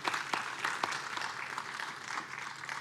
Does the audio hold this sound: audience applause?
yes